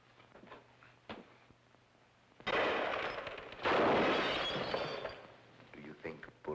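Gunfire and crashing, breaking noise in a 1948 film about ghosts, arriving as two loud, dense bursts midway through a quieter scene with a low hum and scattered voices before and after.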